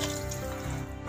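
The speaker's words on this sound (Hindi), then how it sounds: "ये 1 लीटर पानी जाएगा इसमें।" Water pouring into a pot of beef for yakhni, about a litre added in one steady, continuous splashing stream that stays close and fairly loud throughout.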